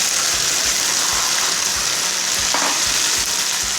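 Chicken pieces hit a hot pan of dark soy sauce for restaurant-style chili chicken, giving a steady loud sizzle with faint stirring knocks, no talk.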